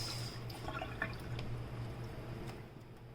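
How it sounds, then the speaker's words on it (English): A wet rag wrung out over a kitchen sink, with soft water drips and a brief trickle against a faint background hum. "I wring my rag out"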